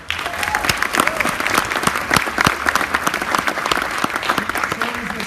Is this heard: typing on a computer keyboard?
no